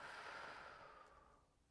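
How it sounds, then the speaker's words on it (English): A person draws in a slow, deep breath and lets it out as a soft airy exhale, close and quiet, steady and unbroken for nearly two seconds with no speech. "I'm gonna take a deep breath in."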